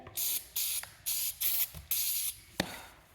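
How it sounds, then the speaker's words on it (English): Several short hissing bursts from a can of carburetor cleaner sprayed on a Troy-Bilt chainsaw, spaced unevenly with brief pauses between, close and fairly soft, plus a sharp click near the end. "I'm going to give this thing a spray off. Oh, carb cleaner."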